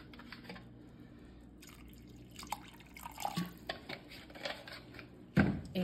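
Dry cooking wine poured into a pot of yellow rice with chorizo and corn, heard as soft irregular drips and splashes that grow busier and louder toward the end, with no talking.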